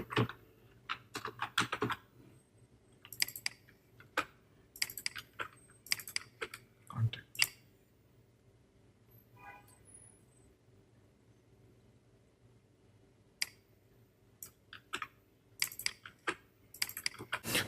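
Someone types code on a computer keyboard while building a Laravel e-commerce contact page: bursts of quick, close key clicks separated by quiet pauses, with a little faint talk in between.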